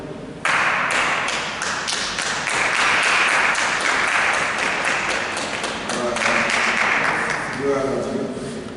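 A church congregation bursts into sustained applause and rhythmic clapping after a prayer, loud and dense, with voices mixed into the crowd noise throughout.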